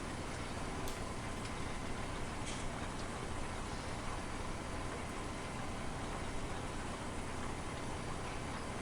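A Challenger tractor engine in Farming Simulator 17 drones steadily, a dense, unbroken rumble that holds at the same loudness throughout with no voices over it.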